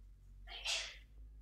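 One short, sharp sneeze from a person nearby, quick and breathy, rising out of a quiet background.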